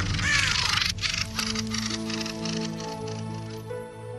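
A raven caws during a fight with thrushes, with harsh calls over a steady bed of music and a busy, bright texture of bird sounds, fairly loud throughout.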